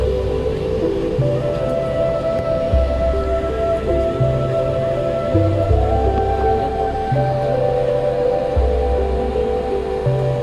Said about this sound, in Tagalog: medyo maulan sa biyahe namin, ayan, pero okay lang